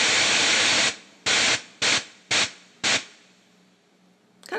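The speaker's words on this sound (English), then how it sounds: "push that button again, it goes up, and you have access to this white noise sound." White noise from a Rainger FX Snare Trap pedal, played through a Strymon Iridium: a loud burst of broadband hiss, then four short, evenly spaced hiss bursts, followed by a quiet hum.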